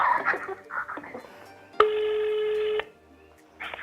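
A telephone produces a steady, loud electronic tone for about a second, close and clear, with brief quieter sounds before and after it and no talking over it.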